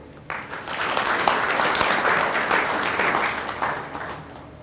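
Sustained audience applause at a gala dinner, a dense steady wash of many hands clapping that starts abruptly and carries on at full strength throughout.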